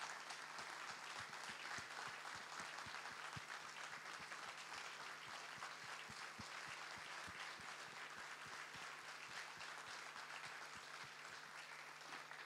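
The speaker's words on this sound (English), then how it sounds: "So I would like to ask you a big applause to send to her our strength for recovery" Sustained audience applause fills a conference hall at an opening summit session, steady dense clapping from many hands lasting throughout without a break, with no talking over it.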